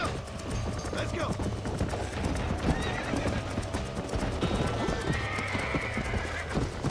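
A horse in the western game Red Dead Redemption gallops with rapid, continuous hoofbeats and whinnies over it, loud and close, with a voice talking over the action.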